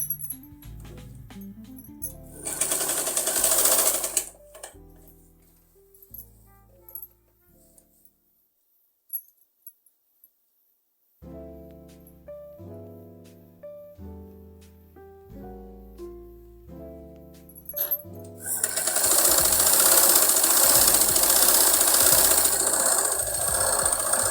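A sewing machine stitches folded fabric and lining in two loud bursts, one short and one longer, separated by a quieter stretch of other tonal sound.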